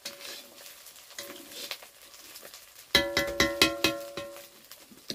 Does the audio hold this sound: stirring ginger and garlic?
yes